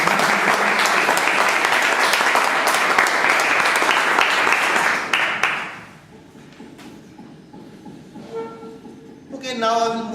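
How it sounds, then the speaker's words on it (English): An audience applauds at a talk, loud sustained clapping that stops abruptly, then quiet room noise and a brief voice near the end. "So folks, how do we applaud that?"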